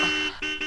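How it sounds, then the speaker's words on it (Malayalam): A car horn sounds in two or three short honks in quick succession, a bright tonal blare at moderate distance with no talking. "ഞാനാ ഹോൺ അടിച്ചത്"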